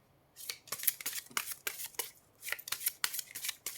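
Oracle cards shuffled by hand in a run of quick, crisp riffling bursts with short pauses between, close and fairly quiet, no talking.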